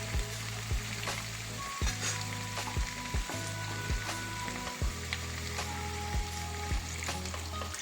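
Spiced potatoes fry in a pan for a vegetarian aloo dum, a steady sizzle broken by a series of sharp knocks and scrapes of a spoon against the pan, heard close with no talking.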